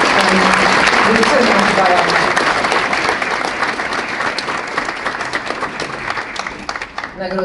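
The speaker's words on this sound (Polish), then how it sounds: "Brawa." A crowd at an awards gala in Cieszyn claps loudly in steady, dense applause that carries on throughout and eases slightly toward the end.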